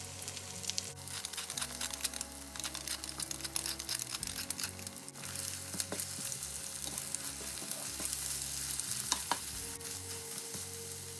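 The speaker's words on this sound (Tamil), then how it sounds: "இப்போ இந்த முட்டை அவியும் மட்டும் எல்லாத்தையும் சேர்த்து கிளற வேணும்" Egg and tomato fry being stirred in a pan, a continuous close sizzle with a spatula scraping and clinking against the pan throughout, no talking.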